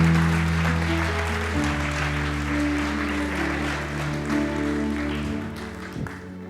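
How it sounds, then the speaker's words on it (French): A church congregation applauds and cheers, a broad, steady wash of clapping over sustained chords from a keyboard or organ, easing off toward the end. "On les applaudit."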